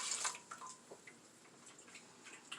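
Yeast and water mix is poured into the pan of a bread machine, a short soft splash at the start followed by a few faint drips and trickles, close and quiet.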